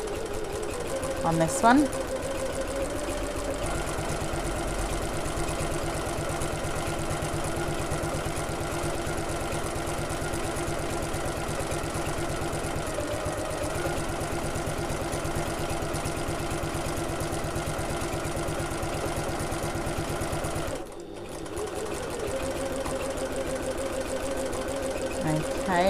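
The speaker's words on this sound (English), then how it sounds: "I'm going to sew at 1/8 of an inch or 3mm away from the edge" Sewing machine stitching a backpack seam about 3mm from the edge, running steadily and close up for nearly the whole stretch with one brief pause, while a voice talks briefly over it.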